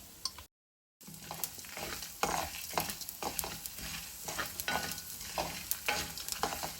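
Coriander seeds, black pepper, cumin and four dried red chillies dry-fry in a pan, producing a soft sizzle with repeated scraping stir strokes after a brief dropout near the start.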